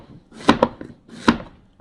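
Vegetables such as carrot and yellow squash being chopped into large pieces on a board, a few close knife thuds in two short bursts with quiet gaps between, no talking.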